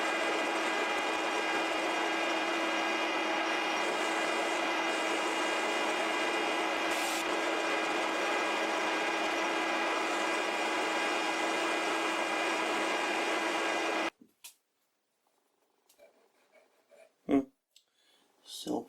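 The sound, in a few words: machine cutting a taper on a drill chuck arbor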